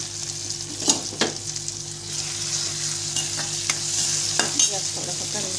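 Turmeric is stirred into a frying pan of sizzling food, with a constant hiss and several sharp scrapes and clinks of a spoon against the pan.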